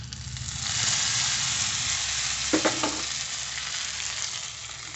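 Dried red chilies and curry leaves hit hot oil for a cucumber pachadi tempering, bursting into a loud, steady close sizzle with a couple of sharp crackles midway.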